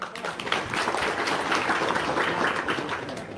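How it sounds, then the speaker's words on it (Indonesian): Audience applause at a motivational seminar, a steady wash of many hands clapping, fairly faint and even throughout with no talk over it. "Tepuk tangan dulu dong."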